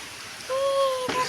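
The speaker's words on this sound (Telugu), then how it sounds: "ఈరోజు వాన వచ్చేసింది" Rain falls outdoors as a faint, steady hiss, with a thin, clear tonal sound briefly riding over it partway through.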